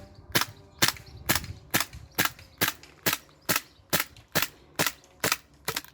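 A gas airsoft pistol fitted with a suppressor fires thirteen evenly spaced, sharp shots close by, each a crisp pop with a short tail.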